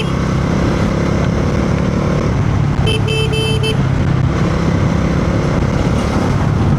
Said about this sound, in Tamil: ஆனால் என்னென்ன டிராஃபிக் தான் ஜாஸ்தியாக இருக்குது.